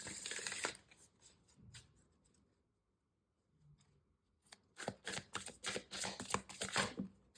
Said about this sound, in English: I'm going to pull one affirmation card for you